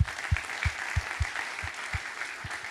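Audience applause at a medical robotics cluster event in Montpellier, a brief patter of claps with a few sharp distinct hits standing out over a soft crowd wash.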